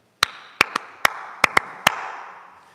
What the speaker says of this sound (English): Now my timing clap.